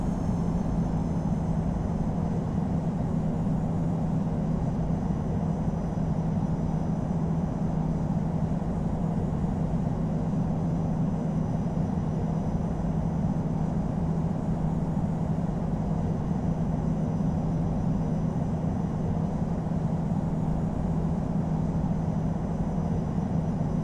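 An airliner taxis toward runway 27 left at London Heathrow in a flight simulator, its jet engines giving a steady, unbroken drone with no voices.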